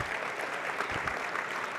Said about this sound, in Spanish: El señor Sergio Berenstein, por quien pide un aplauso.